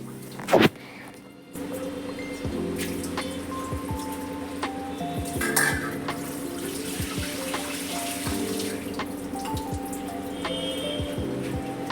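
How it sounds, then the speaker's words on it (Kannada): Moth beans being rinsed in a kitchen sink before pressure cooking, with tap water running and splashing steadily and close by, beginning with a brief clatter and continuing without any talk. "ಮಡಿಕೆ ಕಾಳು ಏನಿದೆ ಅದನ್ನು ಸ್ವಲ್ಪ ಚೆನ್ನಾಗಿ ತೊಳೆದು ಅದನ್ನು ಒಂದು ಪ್ರೆಷರ್ ಕುಕ್ಕರ್ಗೆ ಹಾಕ್ಕೊತಾ ಇದ್ದೀನಿ"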